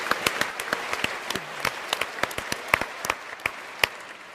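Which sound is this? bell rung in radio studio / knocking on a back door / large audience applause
large audience applause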